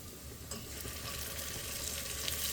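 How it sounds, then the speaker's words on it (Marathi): Onion, cashew and masala sautéing in hot oil for Maharashtrian wedding-style masale bhaat, giving a steady close sizzle with faint stirring clinks and no talk. "आता मसाला पण आपण असा तेल सुटेपर्यंत छान परतून घेणार आहे"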